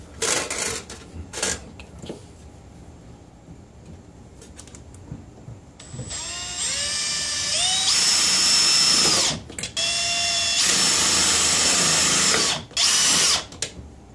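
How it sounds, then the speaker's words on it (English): A power drill drives self-tapping screws: short buzzes and taps at first, then long whining bursts that rise in pitch as each screw runs in, loud and close with pauses between, no talking. "we'll just attach this with some self-tapping screws"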